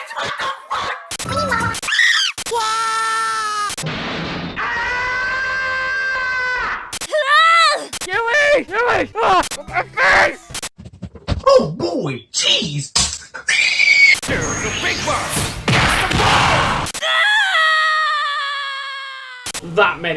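Over-the-top screaming sound effects are edited in as rapid, choppy bursts, loud wails, shrieks and groans cut abruptly one after another with brief silences between them, dominating the clip.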